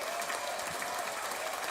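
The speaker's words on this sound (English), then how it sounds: "let's just give a hand clap for everybody that's in the chat" Hand-clapping applause from a group, a dense, even patter of claps with no pauses, fairly faint and steady.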